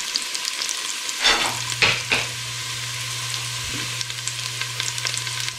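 Onions are dropped into hot oil where garlic has turned golden brown, setting off a steady sizzle with a few louder bursts of frying and stirring near the start, close and continuous with no talk.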